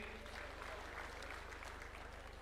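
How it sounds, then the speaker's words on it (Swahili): Sustained audience applause fills a political council meeting hall, a steady dense patter of many hands clapping at moderate distance with no voices over it. "Tuko hapa na wanachama wa chama cha Chap Chap wako kati yetu, tuwapigie makofi"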